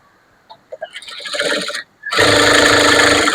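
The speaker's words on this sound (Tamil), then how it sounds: "இந்த ரெண்டும் ஒண்ணா வச்சுட்டு சுத்தில நம்ம தையல் போடலாம்" A sewing machine stitching around the edges of a blouse lining, starting with a few separate taps and a short run, pausing briefly, then a loud continuous whirring burst close by.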